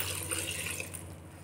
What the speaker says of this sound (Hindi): उसके बाद हम इसमें डालेंगे 2 से 3 ग्लास पानी